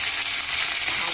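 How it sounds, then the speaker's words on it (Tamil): Fennel seeds and curry leaves frying in oil, a bright, dense hissing sizzle held steady throughout, close and moderately loud. "எண்ணெய் ஊற்றி பெருஞ்சீரகம் போட்டுக்கணும். போட்டுட்டு கருவேப்பிலை போட்டுட்டு"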